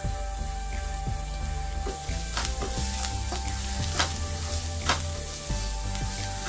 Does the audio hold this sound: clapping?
no